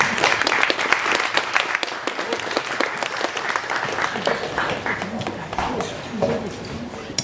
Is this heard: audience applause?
yes